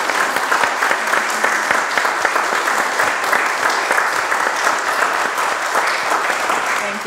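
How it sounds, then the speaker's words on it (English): A church congregation at a Children and Youth Sunday service applauds Sunday school helpers, with many hands clapping in a dense, continuous, fairly loud wash that holds steady throughout. "let's give all of them a round of applause"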